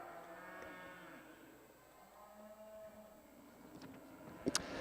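Limousin cattle low and moo repeatedly in a busy livestock show ring, their calls sounding over a steady crowd and barn din with a couple of sharp knocks near the end.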